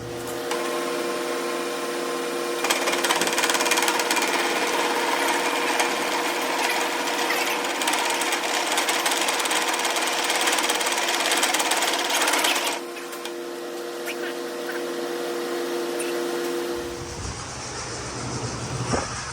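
A portable line boring machine facing a Kobelco loader arm gives a steady, loud mechanical whir with a metallic cutting rasp. The sound runs continuously, changes tone around the middle, drops lower, then shifts again near the end.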